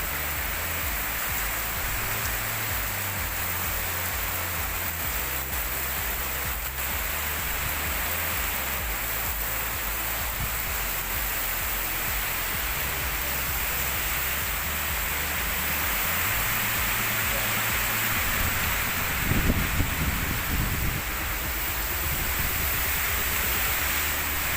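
Heavy rain and strong wind roar as a steady, dense broadband wash throughout, with gusts swelling it slightly and a brief louder burst near the end.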